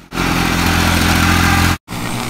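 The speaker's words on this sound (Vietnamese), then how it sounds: "Crawler tractor." A crawler tractor engine revs loud and steady for nearly two seconds, drops out abruptly for a moment, then resumes.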